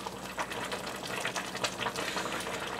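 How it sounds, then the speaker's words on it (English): Yellow curry with coconut cream simmering in a pot, a steady dense bubbling and popping that runs continuously and fairly close. "Now we have this boiling nicely."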